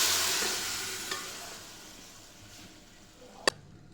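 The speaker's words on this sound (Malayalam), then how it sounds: "നല്ലോണം ഇളക്കി യോജിപ്പിക്കണം" Cooked beef being stirred into a roasted-coconut curry masala in a pan, a soft fading sizzle with light scraping, then one sharp clack of the spoon on the pan near the end, no talking.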